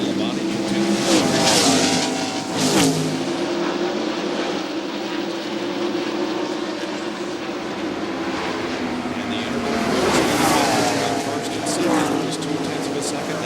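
NASCAR stock cars race at Darlington Raceway during the 1997 Southern 500, their engines droning and swelling as cars pass, with a television commentator talking over the continuous track noise.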